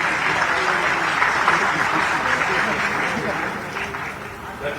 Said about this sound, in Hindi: एक बार तालियों की गड़गड़ाहट अनुगुंजित हो।